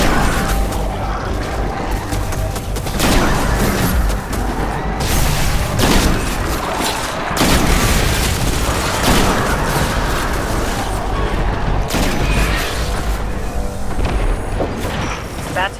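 Gunfire and booming blasts from a fight against the Taken during the Solstice bonfire event in the video game Destiny 2, a dense, loud, continuous barrage of shots and explosions.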